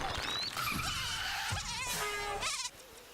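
Mosquito enemy in the Rayman Origins video game, a continuous high whining buzz that bends up and down in pitch over cartoonish game effects, ending in a sudden drop-off.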